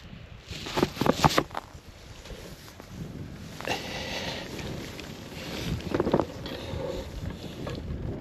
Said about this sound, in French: Il y a un peu de vent par contre du nord.